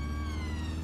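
Siren of a stolen ambulance in Watch Dogs Legion wails as a steady, continuous tone over a low engine rumble, loud and close throughout.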